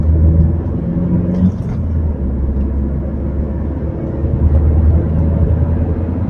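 A car accelerating toward 100 km/h on the road ahead of a brake test, heard from inside as a loud, steady low engine and road rumble that swells gradually without pause.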